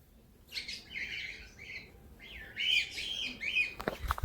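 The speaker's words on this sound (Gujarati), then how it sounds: "આ કયું હે તો ઈ પોપટ હે" Parrots in a park aviary give bright chirps and squawking calls in two bursts, moderately close against quiet outdoor background.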